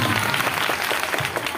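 Audience at an Independence Day or Republic Day school or college stage event applauds, a dense continuous clapping that stays loud and even throughout this short stretch.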